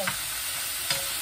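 Chicken curry stirred and frying in a pan: a soft, continuous sizzle with two brief scraping stirs of the spoon, heard close and alone without talk.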